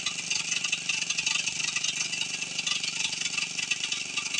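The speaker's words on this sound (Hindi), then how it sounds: "अभी इंजन बराबर चल रहा है" A small kerosene engine converted to run on petrol idles with a steady, rapid putter and a rattling, buzzy tone, held at a constant pace throughout.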